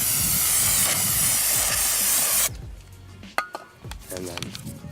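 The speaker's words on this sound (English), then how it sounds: "spray them with some brake cleaner." Brake cleaner sprays onto a new Stoptech brake rotor in one loud, continuous hiss lasting about two and a half seconds, followed by quieter handling noises and light clinks.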